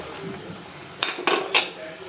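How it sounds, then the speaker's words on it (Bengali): Fried paneer pieces tipped into boiling water in a pan, heard as three sharp metallic clanks of a utensil against the pan over a low bubbling background, close by. "এখানে জলটা ভালো করে ফুটে গেছে। এবার আমি দিয়ে দেবো সব ভাজা পনিরগুলোকে।"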